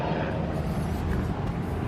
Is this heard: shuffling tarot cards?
no